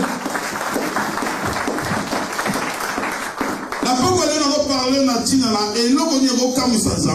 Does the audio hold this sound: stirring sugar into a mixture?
no